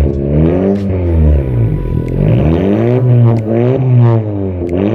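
A Honda Civic Turbo sedan engine revs through a custom exhaust, loud and close, with deep throaty rumble rising and falling in repeated swells and no talking.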